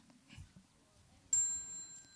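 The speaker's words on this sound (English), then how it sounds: "Another bell." A bell rings once during a Buddhist ceremony with children, a clear struck tone that rings on and slowly fades over low background murmur.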